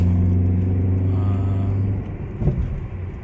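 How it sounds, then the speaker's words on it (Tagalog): Car engine idling and creeping in heavy road traffic, a steady low rumble near and continuous, easing slightly partway through with a brief clatter, no talk. "Grabe na traffic pa kami."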